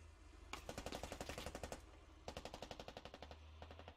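Automatic gunfire in the video game Squad: two quiet, distant bursts of rapid shots separated by a short pause, with no voices over them.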